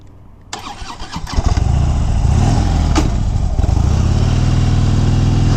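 A 2013 Harley-Davidson Fat Bob motorcycle stalls and is restarted: a near-silent gap, then a rough crank that catches into a loud, steady V-twin idle that carries on alone.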